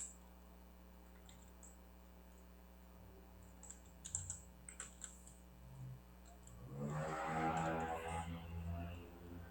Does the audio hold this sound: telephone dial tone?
no